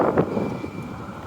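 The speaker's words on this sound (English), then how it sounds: "It's awful windy right here." Strong wind gusts across the microphone on Ontario Street in a North End neighbourhood, making a steady, low, buffeting roar with no voices.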